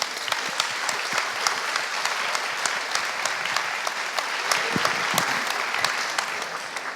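Forum audience applauding steadily for about seven seconds, a dense, even wash of many hands clapping with no talk over it.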